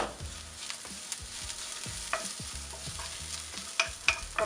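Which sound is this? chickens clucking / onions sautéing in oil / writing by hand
onions sautéing in oil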